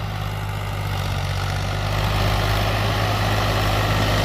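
A Mahindra 265 DI tractor with a 3-cylinder 2048 cc diesel engine runs steadily, a loud, low, even drone that holds constant and swells slightly louder partway through, with no talking.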